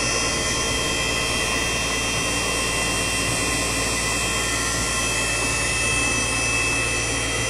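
A 48V 800W BLDC e-bike hub motor spins steadily at speed, a loud continuous whine with an even electrical hum and whirring, close and uninterrupted, no voices.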